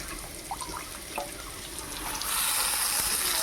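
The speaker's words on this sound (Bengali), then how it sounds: "এবার জলটা দিয়ে দিই।" Hot water pours into a simmering fish curry, a trickling splash that swells into a steady, louder rush of liquid partway through, close and with no talking.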